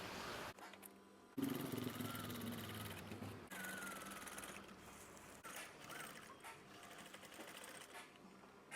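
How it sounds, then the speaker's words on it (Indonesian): A sewing machine stitches a curtain swag in fast, rattling bursts, stopping and starting a few times at close range, with faint talk in the background. "sekarang ikuti saya untuk menjahit bagian ini"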